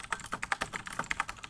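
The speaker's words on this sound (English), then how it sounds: "Sorry for the typing." Rapid clicky keystrokes on a computer keyboard, a steady run of sharp taps close to the microphone with no voices.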